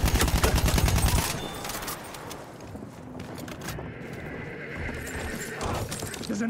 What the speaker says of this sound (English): There's an enemy horse rider.